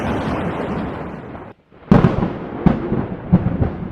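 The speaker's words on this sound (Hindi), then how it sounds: "इनके टकराने से पैदा हुई आवाज को ही हम बादल का गरजना कहते हैं।" Thunder in a storm, a heavy rumbling roll that cuts off briefly, then returns with a sharp crack and further booming rumbles, loud and close.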